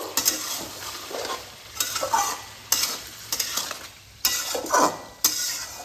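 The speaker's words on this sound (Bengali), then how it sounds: "গরম মশলার গুঁড়ো আর হাফ চামচ চিনি ভালোভাবে মিশিয়ে দেব" Chichinga curry with potato and egg being stirred in a frying pan after garam masala powder and sugar go in: repeated bursts of scraping spatula strokes over a steady sizzle, close and fairly loud, with brief pauses between strokes.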